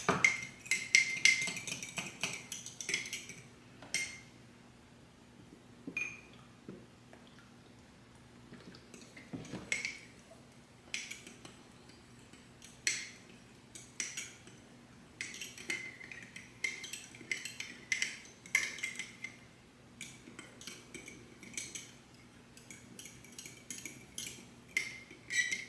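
A spoon stirs chia seed pudding in a jar, scraping up seeds clumped on the bottom, with a run of light, irregular clinks and taps against glass in a quiet kitchen.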